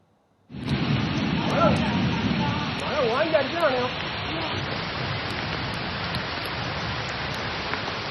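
Heavy rain pours into the inside of a government bus, a dense, steady, loud hiss that starts abruptly and runs throughout, with voices briefly audible early on.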